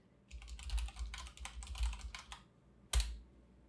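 Someone types quickly on a Mac computer keyboard in a quiet room, a close run of light key clicks ending with one harder keystroke.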